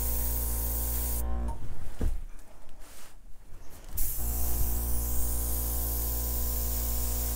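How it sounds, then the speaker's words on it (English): An airbrush sprays paint in a one-color flip-and-drag technique, giving a steady close hiss broken by a short gap in the middle before it resumes evenly. "I have more control when I'm bringing the airbrush towards me than when I'm bringing it out towards you."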